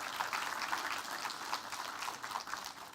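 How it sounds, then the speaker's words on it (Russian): Applause from a conference audience at a glazing industry business event, a steady patter of many hands clapping, faint and distant, continuing evenly throughout without pause. "Похлопаем господину Карсону."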